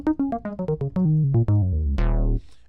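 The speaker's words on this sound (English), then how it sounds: "synth bass sound. It's in the ES2 synthesizer," Hybrid synth bass patch from Logic's ES2 synthesizer playing a quick descending run of punchy plucked notes, then one longer note that rings and fades, close and dry with no talk.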